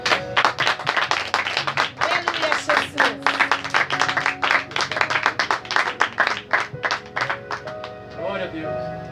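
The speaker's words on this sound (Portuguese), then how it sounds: "Palmas para Jesus." A church congregation claps for Jesus after a prayer, a run of fairly rhythmic, close hand claps with pulsing strokes, over sustained music and a voice.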